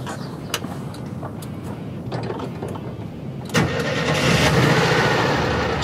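Volkswagen Kombi van engine starting: the starter cranks briefly, then the engine catches with a sudden surge and settles into a steady, close idle.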